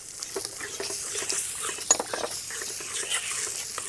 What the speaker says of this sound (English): Then we stir in some yoghurt.